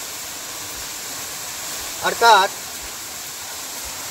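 Yeram waterfall at Palmalai near Haldiche Nerur, a fall that keeps flowing even in summer, gives a steady, even rushing wash of water throughout, with one short spoken word breaking in midway.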